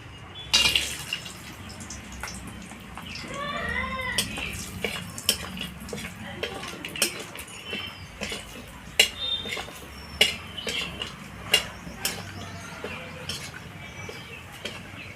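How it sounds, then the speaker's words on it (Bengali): Lentil dumplings (bori) frying in oil in a home kitchen, with soft bubbling sizzle under scattered utensil clinks and scrapes, fairly quiet overall. "এবার আমি বড়িগুলো ভেজে নেব"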